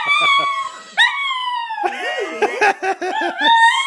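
A shih tzu howls along with violin playing: a few bowed violin notes give way to loud, wavering, rising howls and yelps from the dog, close by, with a little laughter mixed in.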